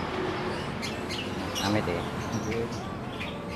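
Small birds chirp and tweet in short bursts in a lovebird and canary shop, the calls scattered over steady background noise while a person speaks briefly nearby.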